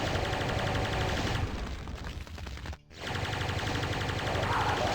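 Shotgun fire in the DOOM game, blasts packed into a dense, loud stretch of combat noise with a brief drop near the middle before the roar resumes.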